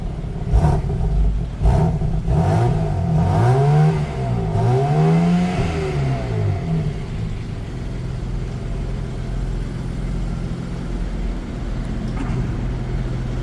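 A 2023 BMW M4 G82 Competition revs hard several times in quick succession, the engine note climbing and falling in sweeping arcs before settling to a steady, rumbling idle, loud and close with no talk.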